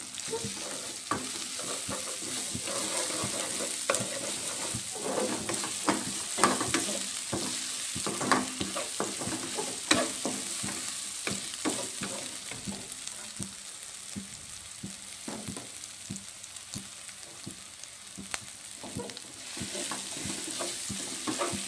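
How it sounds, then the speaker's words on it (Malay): Crushed garlic sizzling and frying in a hot pan, a continuous crackling hiss with scattered stirring clicks and scrapes, steady and moderately close throughout. "Miss akan masukkan bawang putih yang ditumbuk ya."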